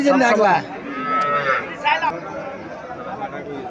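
Calves and cattle low loudly and close at a livestock market in Comilla, with a long moo near the start and more calls under nearby chatter and voices.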